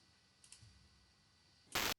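A mouse button clicks on a login button: a couple of faint, quick clicks, then a short, sharp, louder burst near the end, with quiet around it.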